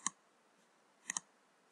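Computer mouse clicks while working in Cricut Design Space: one crisp click, a short pause, then a quick double click, close and clear in a quiet room.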